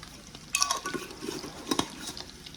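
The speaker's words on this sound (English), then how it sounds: "we're just gonna mix that all up" A spoon stirs and scrapes potatoes tossed with dried parsley in a pan, with a few clinks of metal against the pan, fairly faint and close, with no talking.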